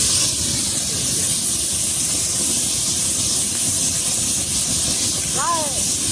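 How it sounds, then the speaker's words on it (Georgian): Natural gas burns with a loud, constant roaring hiss that stays even throughout, with a faint short chirp near the end. "აი რა ხდება მაშინ, როდესაც ბუნებრივი აირი იწვის"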